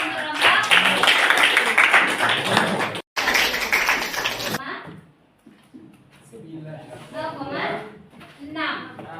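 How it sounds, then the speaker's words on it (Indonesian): A group of students clapping in a classroom, dense, steady applause for about four and a half seconds with a short break, then fading into scattered voices and chatter. "Kita kasih aplaus untuk kelompok"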